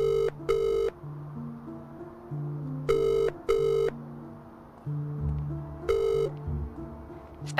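A telephone rings unanswered in the video game Last Stop, three pairs of loud electronic double rings separated by pauses, over a low sustained musical backdrop.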